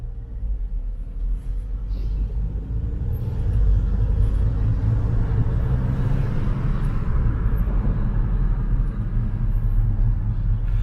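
A Hyundai Grandeur IG diesel car accelerates on a test drive, heard as a steady low rumble of engine and road noise from inside the cabin, growing slightly louder partway through.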